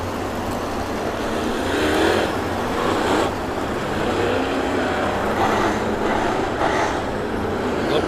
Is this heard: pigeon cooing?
no